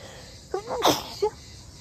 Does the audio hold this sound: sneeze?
yes